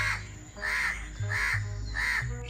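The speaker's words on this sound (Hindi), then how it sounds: "ये कौवा मेरे बीच में बहुत बोल रहा है।" A crow caws outdoors on a cloudy, lightly rainy day, four loud harsh calls in a regular rhythm with a low steady hum underneath.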